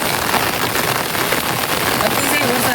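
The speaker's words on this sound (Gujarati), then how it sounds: "વરસાદ બહુ આવી ગયો" Steady heavy rain pours down beside a flooding river in monsoon conditions, a dense even hiss that fills the whole stretch without break or pause, close and loud.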